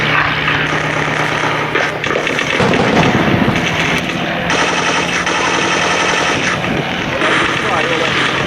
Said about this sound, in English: There goes the gunfire of the defenders on the ground.